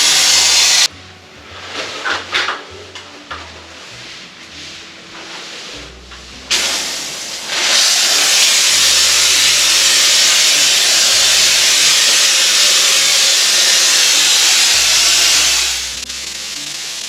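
A steady, loud pressurized hiss of Vega Bond closed-cell spray foam insulation spraying runs in long bursts, broken by short pauses and a few clicks, with no talking.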